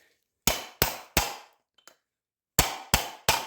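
A hammer strikes to knock a wheel bearing out of a 2001 Honda Foreman Rubicon hub set on a 3-inch PVC coupler: six sharp, loud metallic whacks in two groups of three, with a faint rattle between them.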